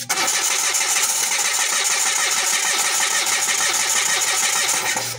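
A Mitsubishi G4 car engine with a broken fuel pump wire starts, catching quickly and settling into a loud, steady run that holds for several seconds close to the listener.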